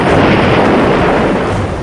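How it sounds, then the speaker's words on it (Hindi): A loud, dense roar of blasts rumbling together, like explosions heard close by, sustained without pause. "हमले के बाद धमाकों के साथ हेलीकॉप्टर में आग लग गई"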